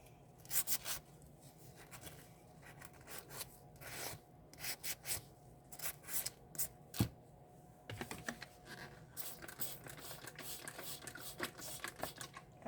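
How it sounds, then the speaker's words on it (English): Hand-sanding a resin mold piece gives bursts of dry, scratchy rubbing strokes in irregular clusters, close and fairly quiet against a faint background hum. "I'm sanding this."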